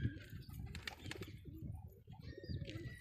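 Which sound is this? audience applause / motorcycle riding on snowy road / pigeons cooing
pigeons cooing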